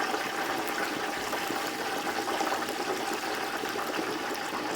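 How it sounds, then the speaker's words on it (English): Steady loud bubbling hiss of hot grease as a turkey is slowly lowered into a propane deep fryer outdoors, a continuous rushing sizzle with no talk. "So this is how you drop the turkey in the grease."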